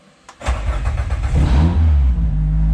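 A Peugeot 208 Racing Cup car engine cranks briefly and catches, then settles into a loud, steady, close idle with a slight rev as it starts.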